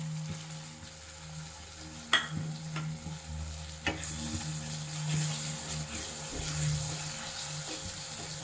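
Masala powders fry softly in a pan with tomato paste, a low, steady sizzle punctuated by a few sharp scrapes and knocks of stirring, fairly quiet with no speech.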